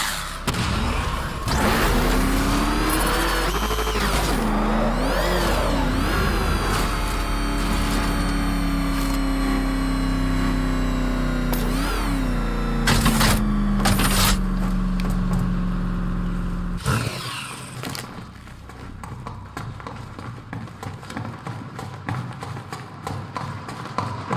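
The Batmobile in Batman Arkham Knight drives and revs with a loud, sustained engine drone and wavering pitch sweeps, broken by sharp impacts and bursts, before dropping to quieter rumbling game ambience.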